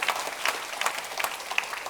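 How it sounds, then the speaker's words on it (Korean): Church congregation clapping during a Sunday morning worship service, a short burst of scattered, uneven hand claps with a few sharper individual claps, moderately close. "우리 옆에 분에게 격려와 축복과 사랑의 박수"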